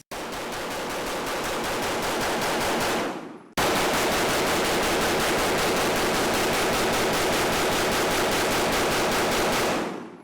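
A 2011 pistol taking Glock magazines, fired very rapidly one-handed, producing two long, dense strings of shots, a roughly three-second burst, a brief pause, then a longer continuous burst, loud and close with no talking.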